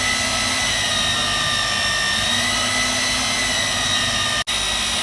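Scraper machine facing the end of a 14-inch HDPE pipe, a constant loud motorized whirring and grinding drone with high whining tones, running unbroken apart from one sharp instant dropout near the end.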